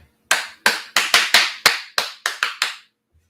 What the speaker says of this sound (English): If you clap your hands loudly, it rejuvenates you.